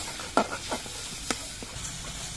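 Spice masala is stir-fried in a pan with green peas for a broccoli curry, a soft sizzle punctuated by a few sharp spoon scrapes and taps.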